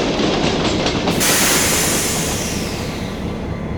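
A train rolls loudly along the rails, a heavy continuous rumble with a rushing wash that brightens midway, close and steady with no voices.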